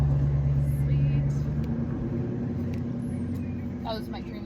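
Green Dodge Challenger driving past, a steady low engine rumble that slowly fades as it moves away, with faint background sounds on top.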